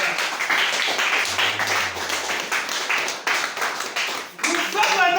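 A church congregation bursts into dense, sustained applause at a service, many hands clapping together loudly and continuously for several seconds, with voices mixed in.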